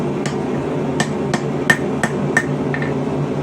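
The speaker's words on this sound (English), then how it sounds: "Bring it down over the side of the anvil, tap it back up, tap it back down," A hammer taps a rebar scroll on an anvil, about eight sharp metallic ringing strikes at an uneven pace, close and distinct over a low background hum.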